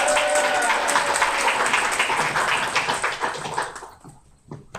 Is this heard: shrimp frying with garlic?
no